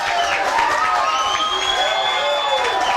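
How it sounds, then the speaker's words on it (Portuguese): A crowd at a formal anniversary ceremony in a legislative session hall applauds and cheers, with dense continuous clapping, some whistles and shouts, loud and sustained. "eu queria pedir uma salva de palmas"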